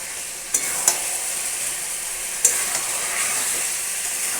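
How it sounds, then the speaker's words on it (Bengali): Potatoes go into masala frying in oil for a chicken curry, raising a loud, steady, close sizzle broken by a few sharp clacks from the spoon against the pan. "এবার এর মধ্যে আমি আলুগুলো দিয়ে দেবো।"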